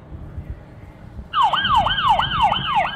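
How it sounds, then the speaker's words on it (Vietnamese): A toy talking card reader plays an electronic police car siren, a fast repeating wail that starts abruptly and loops steadily at close range over faint background noise. "Xe cảnh sát. Police car."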